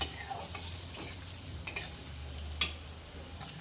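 Onions frying in a pan and being stirred for an aloo palak dish, a quiet continuous sizzle broken by a couple of soft spoon clicks against the pan.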